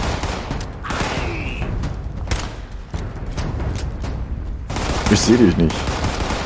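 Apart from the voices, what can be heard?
rifle gunfire in the video game Fallout 76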